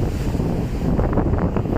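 Strong monsoon wind gusting across a beach at Kampung Pantai Batu Buruk, buffeting the microphone with a steady roar and a faint wash of surf beneath it, with no voices present.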